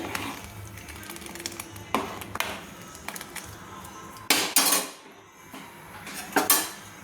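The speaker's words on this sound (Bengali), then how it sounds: "তো এদিকে দেখে আমি চালটা নাড়ছি ঘন ঘন।" A spoon scrapes and knocks against a pot while rice for payesh is stirred, giving irregular metallic clinks and a few sharper clanks over a low simmering background, close and unaccompanied by talk.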